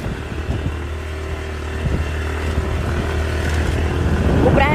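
A motorcycle engine drones steadily while riding, a low buzzing hum under wind rush that grows slightly louder toward the end.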